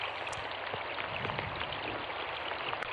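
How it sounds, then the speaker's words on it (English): Rain in a stage drama falls as a faint, continuous patter with scattered droplet ticks over a steady hiss, no voices present. "And the Bible records that when the sound of rain came,"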